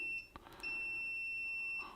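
An Owon XDM1241 digital multimeter emits a steady electronic beep, a clear continuous tone lasting over a second after a couple of brief chirps and clicks.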